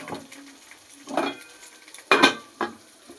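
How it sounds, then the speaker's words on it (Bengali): Eggplant fries with onion in a pan, a faint sizzle under a few spaced scrapes and clinks of a spatula against the metal, with one louder clatter near the middle. "বেগুনটাকে আগে পেঁয়াজের সঙ্গে ভেজে নিই"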